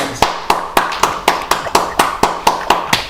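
Clapping closes a football referees' talk session: loud, sharp claps land in a steady, evenly spaced beat, about four per second, each one ringing briefly in the room with no voices.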